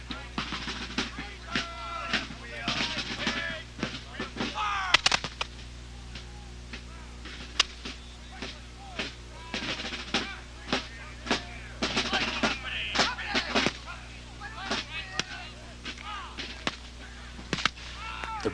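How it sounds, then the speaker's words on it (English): Musket volleys and cannon fire crack and boom in a Revolutionary War battle re-enactment, with sharp reports scattered irregularly over a low steady hum, mixed with voices and faint background music. "The battle continued with both armies firing back and forth"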